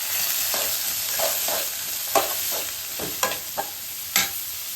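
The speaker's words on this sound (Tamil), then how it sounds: "இப்போ வெங்காயம் நல்லா வதங்கணும்." Sliced onions with curry leaves sauté in hot oil for a mushroom pepper gravy, giving a continuous sizzle broken by several sharp spoon scrapes and stirs against the pan, close and clear, with no talk.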